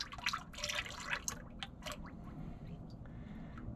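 Fluid draining from a loader past a clogged, dirty filter screen, heard as a controlled trickle with irregular close drips and splashes, busier at first and thinning toward the end.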